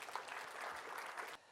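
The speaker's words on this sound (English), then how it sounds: "Let's give Piotr a round of applause." A room full of people applauding at a property networking event, steady clapping from a moderate distance for over a second before cutting off abruptly.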